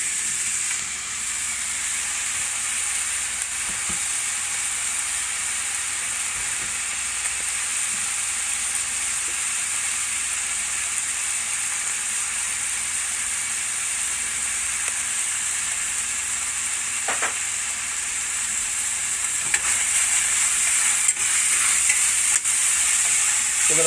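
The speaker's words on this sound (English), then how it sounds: "We're going to brown this sausage off also." Crumbled spicy sausage, taken out of its casings, browns in a pan with a steady, continuous sizzle and hiss that stays at an even level throughout, joined by occasional faint stirring clicks.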